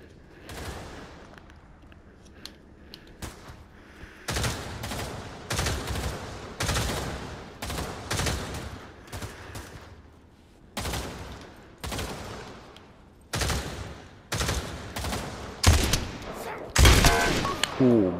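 Shotgun blasts in the VR shooter Pavlov on PS5, a string of sharp loud reports, some in quick pairs and some spaced seconds apart, with quieter gaps between them.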